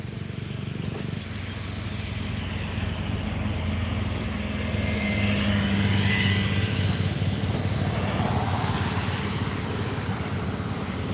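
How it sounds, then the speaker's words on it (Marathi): Vehicle traffic drones steadily at a busy onion market in Solapur, a continuous broad engine rumble with passing motor noise swelling in the middle, fairly loud and with no voices standing out. "गाड्यांचा आवाज खूप येत असेल आता तुम्हाला"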